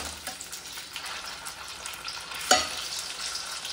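Food fries in hot oil with a steady low sizzle and one sharp spitting crackle near the end, close and alone without voices.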